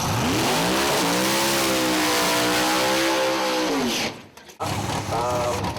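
A nitrous-fed door slammer drag racing car screams under full throttle, its engine note rising and holding loud and close before a brief drop-out, then roaring back up; commentary voices talk over it.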